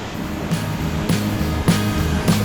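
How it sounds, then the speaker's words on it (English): A steady, broad roar of a waterfall in Shoja, Himachal, fills the scene, with a few soft rhythmic thumps recurring under the constant wash. "I don't know if you guys can hear me over the noise or the sound of the waterfall"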